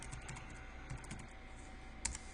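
Keystrokes on a computer keyboard entering a layer style name, light clicks in a steady burst at close range, with one slightly sharper tap near the end and no talking.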